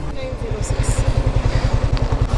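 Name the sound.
motorcycle being ridden for deliveries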